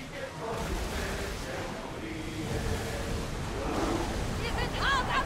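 A ship under sail on the open sea in Assassin's Creed Odyssey, with a steady wash of waves and wind. Faint whistling tones rise near the end.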